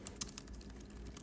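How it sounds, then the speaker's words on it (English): Typing on a Gigabyte Aero 15x9 laptop keyboard, a quiet, steady patter of soft key clicks with a few slightly sharper taps, close by and with no talking. "I do enjoy the keyboard, and it's not that loud either."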